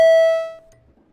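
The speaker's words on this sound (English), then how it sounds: "can we hit the bells very quickly" Senate chamber bell rung for a quorum call during a floor session: a single loud, clear electronic ding that rings out and decays over about half a second, followed by faint room noise.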